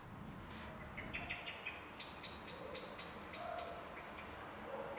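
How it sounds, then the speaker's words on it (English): City ambience captured through an open window on an iPhone: a steady low hum of distant urban traffic with a few faint chirping birds and brief tonal calls scattered across the background, no voices. "Actually, it's a city environment out of my window."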